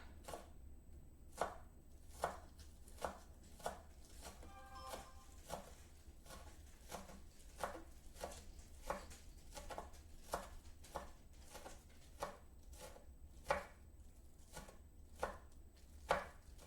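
A knife chops onion thinly on a board in a steady, even rhythm of crisp taps, fairly quiet and close, continuing throughout with a brief faint clatter partway.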